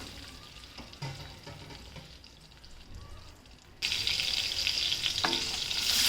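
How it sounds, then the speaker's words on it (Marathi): Spices with green and red chillies fry in a pan, a low steady sizzle with occasional stirring clicks that suddenly swells into a louder, bright crackle partway through. "मसाले चांगले परतून घ्यायचे."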